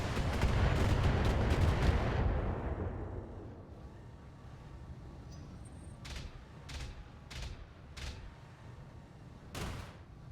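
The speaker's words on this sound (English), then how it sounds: "Firing all weapons" BattleTech mech firing all of its weapons at once, a dense roaring barrage that fades after a couple of seconds, followed by several sharp, spaced impacts or shots at a distance.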